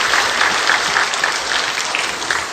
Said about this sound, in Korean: 함께 박수로 환영을 해 주시기 바라겠습니다